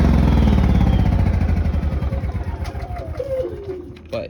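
Honda EU7000IS generator engine running with a steady low chugging idle, close and loud, its pulse gradually slowing and fading as it winds down near the end.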